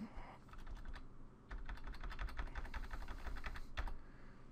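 Typing a command on a computer keyboard in Windows 8: quick, close clicks of keys in uneven bursts with a short pause, all fairly quiet and without talk.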